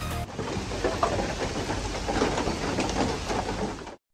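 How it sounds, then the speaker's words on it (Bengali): Steady rain patters continuously across the whole stretch in an outdoor park, a dense, even hiss of drops that cuts off abruptly at the end. "কিছুক্ষণ পর পরও বৃষ্টি হানা দিচ্ছিল আমাকে"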